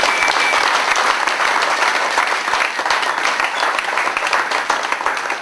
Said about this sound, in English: could you please give a warm round of applause for Ancient Future and Muata Books for making this happen